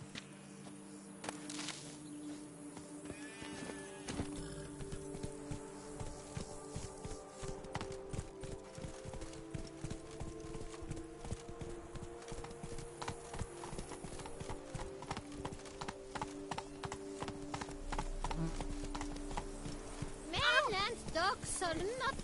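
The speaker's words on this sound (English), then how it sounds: "Whoa there, Roach." Horse hooves clip-clop steadily at a walking pace in The Witcher 3: Blood and Wine, a rhythmic run of hoofbeats lasting throughout, with game music and a voice speaking over them.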